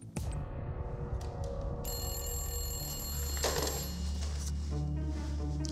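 A telephone rings with a bright electronic ringtone that sounds steadily and clearly throughout, close and alone, with no voices.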